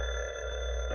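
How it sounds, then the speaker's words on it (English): A telephone bell ringing in an old Jack Benny Christmas radio drama, a sustained bright electric ring heard alone and steady for about a second. "Yes, the phone's been going all day."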